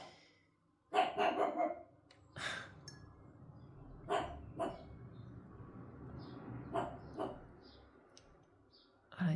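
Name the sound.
dog barking in the garden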